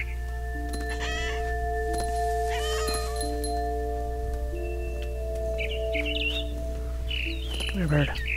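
Cat meowing and caterwauling in the video game What Remains of Edith Finch, several drawn-out yowls over a steady hum, with bird chirps flickering near the end.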